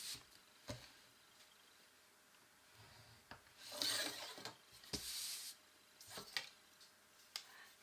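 A small stylus drawn along a ruler scores diagonals into paper across the small squares, giving light scratchy rubbing strokes that come in short bursts with pauses between, fairly quiet and close, with no voices.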